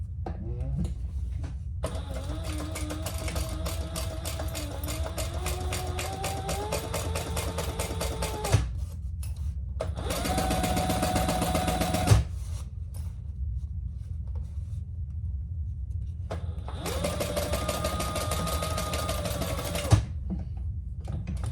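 Sewing machine stitching a clutch lining seam, running in three bursts of rapid, even needle chatter with short pauses between them, close and clear.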